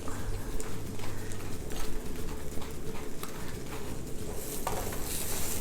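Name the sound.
buttered bun slices toasting in a pan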